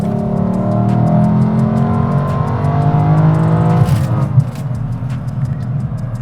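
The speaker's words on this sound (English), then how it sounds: "So let's take a listen to that engine real quick" A 2020 Lexus LC500 engine in Sport Plus mode pulls hard and loud, its note climbing steadily as the revs rise, then briefly breaks and settles lower around an upshift before building again, close and without any talking.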